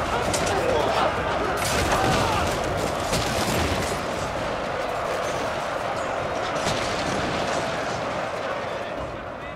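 Musket and gun volleys from massed troops in a Total War: Shogun 2 battle, a loud, dense crackle of overlapping shots that rolls on steadily throughout with no clear pause.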